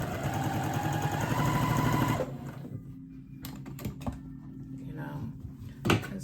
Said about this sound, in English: I'm gonna sew the rest of them and then show you attaching one